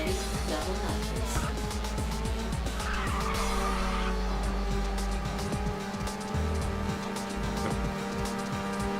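Racing car engine roaring at high revs in the arcade racing game Ridge Racer 6, with tire squeals and skids during a double nitrous boost, loud and continuous throughout.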